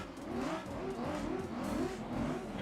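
Race car engine in the Gran Turismo video game, a continuous buzzing drone that rises and falls in pitch in quick repeated sweeps, loud and steady with no talk.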